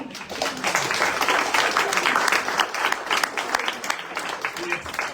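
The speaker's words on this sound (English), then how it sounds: "I think you deserve a round of applause" Steady crowd applause at a community association's public meeting, a fairly loud round of clapping that runs throughout with a few voices mixed in underneath.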